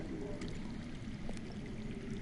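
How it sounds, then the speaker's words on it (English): Underground water in a Game of Thrones video game flows as a faint, steady pouring rush beneath a low rumble, with light scattered clicks. "I hear water. From underground."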